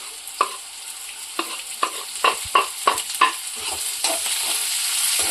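Diced potatoes and chillies for poha sizzle in a hot pan while a spoon stirs them, giving several sharp scraping clacks over a steady close frying hiss.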